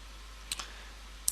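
Two faint, sharp computer mouse clicks about a second apart, crisp against a quiet room hum.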